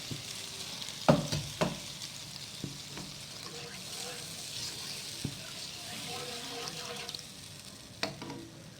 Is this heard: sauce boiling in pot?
yes